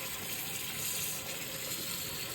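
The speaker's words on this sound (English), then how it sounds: "in the strainer and run hot water over it until the grease is all the way out" Hot tap water runs steadily over ground beef in a strainer at a kitchen sink, a constant hissing gush with no pauses and no voices.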